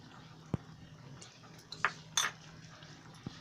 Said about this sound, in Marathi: मीठ टाकल्यावर असं परत एकदा असं हलवायचं.